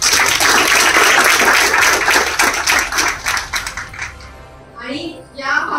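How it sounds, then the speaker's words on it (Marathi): Audience applause at a Shivaji Foundation event, a dense burst of clapping that rings loud for about four seconds, then thins out and fades as a voice begins speaking. "त्यासाठी खरंच एकदा टाळ्या झाल्या"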